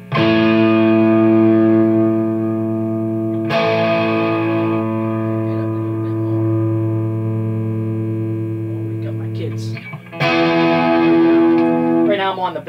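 Electric guitar on the bridge pickup through a Marshall Vintage Modern 2466 amp with tones all the way up, sustained distorted chords ringing out, then a fresh strummed chord near the end, loud and close with a bit of reverb.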